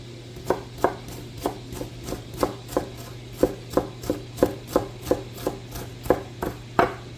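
A knife chops through a whole onion on a cutting board, a steady series of about fifteen crisp, close knocks at an even rhythm over a low constant hum, with no talking.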